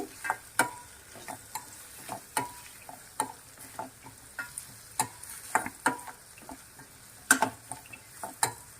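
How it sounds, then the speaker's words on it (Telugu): Onions frying slowly in a pan over a low flame, heard as a soft background sizzle broken by repeated light taps and scrapes of a spoon against the pan at an uneven, ticking pace, quiet and close, with no voices. "ఆనియన్స్ వేగనిద్దాము. ఒక 2 మినిట్స్ పడుతుందండి. లో ఫ్లేమ్లోనే కర్రీ చేసుకోవాలి."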